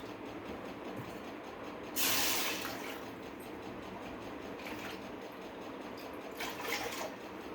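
Water is poured into a cup or pot for a semolina (rava) evening snack in a home kitchen. Two short bursts of hissing, splashing flow rise over quiet background noise.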